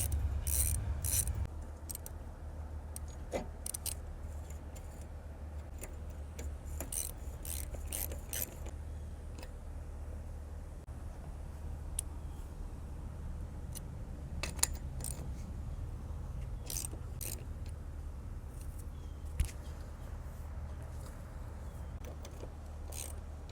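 A zero turn mower front wheel being tightened: faint, quiet ratcheting clicks and scraping metal taps scattered over a low steady hum, with no talking.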